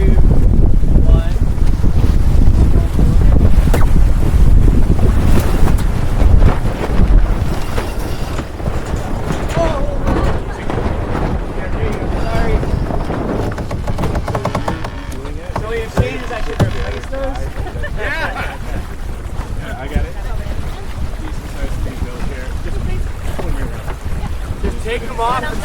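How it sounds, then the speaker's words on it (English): A sailboat racing across Monterey Bay during the Spinnaker Cup tacks in strong wind, with heavy continuous wind buffeting and rushing water loud throughout while crew voices call out. "Okay, tacking in 3,"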